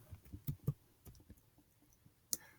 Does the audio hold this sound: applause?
no